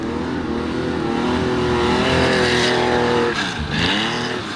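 A Tuthill rear-engined Porsche 911 rally car drives hard on snow and ice, its engine note rising and falling loudly and close as it revs, with a brief drop and recovery near the end.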